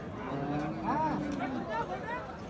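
A cow lets out a long, low moo amid steady crowd chatter and people talking nearby at a busy cattle market in Ambari, where Sahiwal cows and calves are sold.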